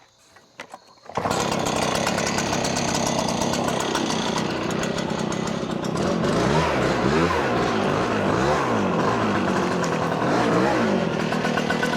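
A Husqvarna 590 BTS gas backpack leaf blower starts up after a quiet second and roars continuously at close range, loud and steady for the rest of the span.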